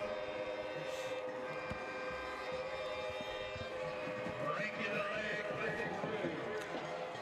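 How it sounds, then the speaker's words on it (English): Train horns blare at a high school football game between Fannin and Haralson, a sustained, fairly distant drone across crowd noise and talk. "They've got the train horns going, Brandon."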